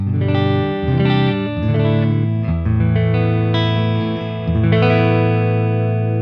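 Electric guitar chords ring through a warm, bass-heavy Hiwatt DR103 amp model on the Normal input, each strum full and boomy with sustained low end.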